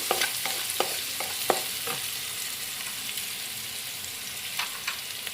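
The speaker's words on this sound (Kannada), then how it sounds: "ಎಣ್ಣೆಯಲ್ಲಿ ಅರ್ಧ ಫ್ರೈ ಆಗೋವರೆಗೂ ಫ್ರೈ ಮಾಡ್ಕೊಬಿಡೋಣ" Carrots fry in hot oil for chicken fried rice, a continuous sizzling hiss broken by a series of sharp spatula taps and scrapes against the pan, clustered early then sparser; no one talks.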